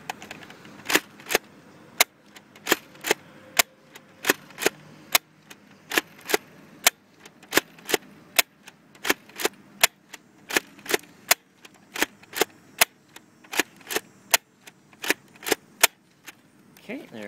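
A Lameila Fighter No. 1 foam disc blaster, a Nerf-style toy, fires discs one after another, sharp close snapping pops at a steady, slightly uneven pace with faint mechanical clicks between shots.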